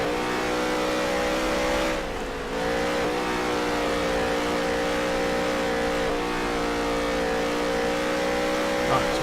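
Race car engine in the NASCAR Heat 3 video game at Eldora, a steady loud drone holding a near-constant pitch with a brief dip around two seconds, running continuously without talk.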